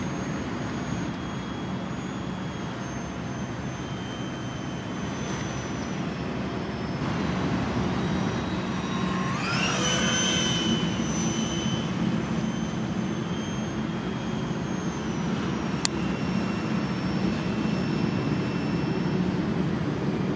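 Freewing YAK-130 RC model jet with an electric ducted fan on a 6S battery, flying at a maiden flight, a steady whooshing whine with a rising, sweeping tone as it passes close, louder in the second half.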